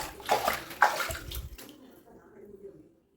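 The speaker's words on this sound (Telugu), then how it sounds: "హాట్ వాటర్లో నేను డైరెక్ట్ వదిలేస్తున్నాను ఫోన్." A phone lands in hot water in a bathroom, giving two splashy plunges in quick succession followed by a fading slosh and drip that trails off into quiet.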